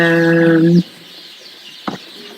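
A two-month-old cockerel lets out a strained, drawn-out call that cuts off abruptly, followed after a quiet pause by one short cluck.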